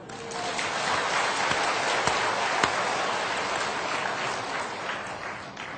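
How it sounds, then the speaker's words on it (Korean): A church congregation claps in thanks during a Sunday sermon, a dense, steady wash of many hands filling the room for several seconds, loud and continuous with no talk over it. "하나님 아버지께 감사 박수합시다"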